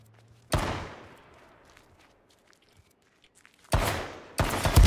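Shots ring out in the survival shooter game H1Z1: one loud crack with a long fading echo, then silence, then two more heavy blasts in quick succession near the end.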